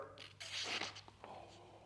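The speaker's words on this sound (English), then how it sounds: "Cutting fuel line, cutting paper," Several quick scraping cuts through fuel line with a 3D-printed cutter, a close, dry rasping slice repeated in short bursts with brief pauses between.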